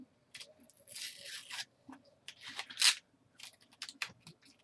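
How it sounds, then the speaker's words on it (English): A paper label is peeled off a small bottle, giving a series of irregular close-up crackling, tearing and rustling bursts with brief pauses between, one sharper rip standing out midway. "I'm peeling the label off the bottle"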